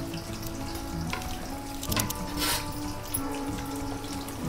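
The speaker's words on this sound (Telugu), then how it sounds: "ఇట్లా మనం అన్నీ ఇట్లనే వేసుకొని ఇవి మంచిగా డీప్ ఫ్రై చేసుకుందాం" Eggs deep fry in hot oil for egg pickle, giving a steady, dense sizzle throughout with a few brief clinks and stirring sounds on top.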